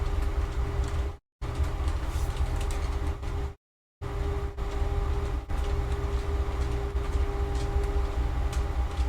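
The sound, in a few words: train noise picked up by the microphone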